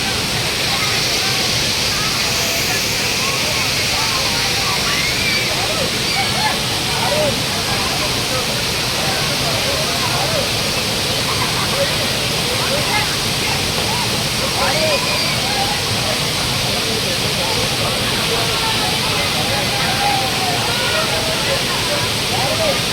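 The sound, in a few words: waterfall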